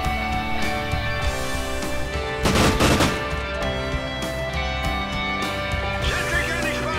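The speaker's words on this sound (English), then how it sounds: "Sentry gun is fired." A sentry gun in Call of Duty: Ghosts on the Favela map lets out a dense, loud burst of rapid automatic fire over a busy game soundscape with music and other gunfire.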